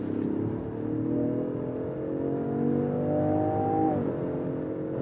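A Range Rover Sport L461 accelerates in S shift mode, its engine note climbing steadily and holding high revs before dropping sharply as it shifts, heard from inside the cabin with no talking.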